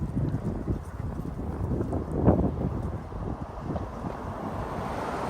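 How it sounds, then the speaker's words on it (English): Steady low wind rumble buffets the microphone outdoors on a small-town street in Bracebridge, Ontario, with a brief louder gust near the middle. "it is a little bit windy here today"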